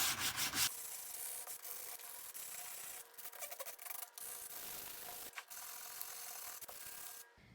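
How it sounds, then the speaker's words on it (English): Folded sandpaper rubs back and forth across a wooden board for wall art, a close, steady scratchy sanding with brief pauses between strokes and no talking. "what I like to do is actually fold the sandpaper so I can get right in that corner."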